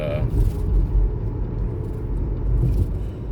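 Low road traffic rumble from passing cars, a dense steady drone with a few swells as vehicles go by close.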